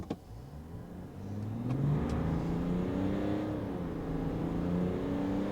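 A Duramax LM2 diesel truck with its resonator deleted accelerates in tow haul mode, the engine note climbing steadily through rising harmonics in one continuous, moderately loud pull with no talking.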